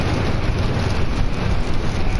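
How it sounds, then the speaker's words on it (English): Steady heavy rain in a Roblox game falls continuously, a dense hiss of drops with a low rumble underneath, no voices. "Now it's just raining."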